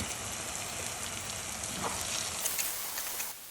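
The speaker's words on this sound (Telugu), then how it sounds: "ఆనియన్స్ ఫ్రై అయిన తర్వాత ఇలా ఉడికించిన ఎగ్స్ ఇలా ఘాట్లు పెట్టుకొని వేసుకొని ఒక 2-3 నిమిషాలు ఫ్రై చేసుకోవాలి." Boiled eggs frying with onions in a pan, a steady close crackling sizzle with scattered pops and spits running throughout, no voices.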